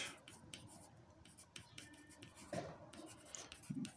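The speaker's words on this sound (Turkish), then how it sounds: "Buraya da şöyle ben bir slogan yazıyorum." Hand-writing a slogan on paper during a third-grade maths lesson; quiet scratchy pen strokes come in short bursts and pauses, close and faint, with no talking.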